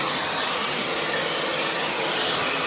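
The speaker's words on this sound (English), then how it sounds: "a little blast up the way in the root" A hair dryer blows a steady, loud, broadband rush of air close by as it dries the roots of wet hair, with no break and no voices.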